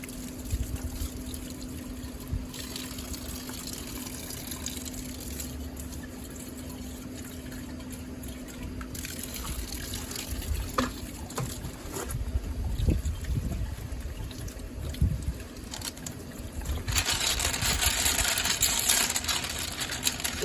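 Water sprays and trickles over a barrel to rinse off grit from a rock tumbler, a steady wash with splashing surges that grows louder and harsher near the end, with a low hum underneath.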